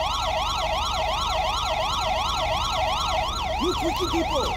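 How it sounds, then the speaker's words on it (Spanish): Police siren wailing in GTA 5 during an LSPDFR patrol, a loud steady rising-and-falling electronic wail that runs unbroken for the whole stretch over low engine rumble, with a brief chirping yelp near the end. "No sé quién coño tiene la sirena puesta."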